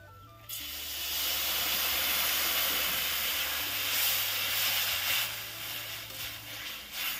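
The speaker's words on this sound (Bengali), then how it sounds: "এবার দিয়ে দেবো জল।" Water is poured into a hot pan of shing fish curry with bitter gourd and potato. It brings a sudden loud rush of hissing steam that holds steady for several seconds, then eases slightly toward the end, with no talk.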